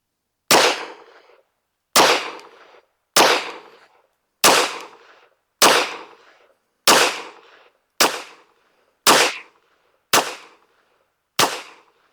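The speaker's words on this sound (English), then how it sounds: "we got the 10 rounds of Norma loaded up. Let's shoot that bottom right target." Ten evenly spaced sharp reports from a Smith & Wesson M&P 22 Magnum firing Norma hollow-point rounds at a target, each loud crack decaying quickly, about one shot per second, with no talking.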